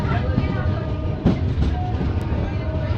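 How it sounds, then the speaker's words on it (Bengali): Train pulling out of Gangarampur station on the Balurghat–Sealdah express, heard from inside the coach: a loud, steady rolling rumble with wheel clatter and a sharp squeal partway through, and no speech over it. "গঙ্গারামপুর থেকেও ট্রেন ছেড়ে বেরিয়ে যাচ্ছে"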